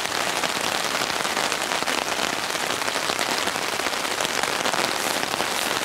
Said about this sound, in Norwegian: Det er nok regn for deg, kompis.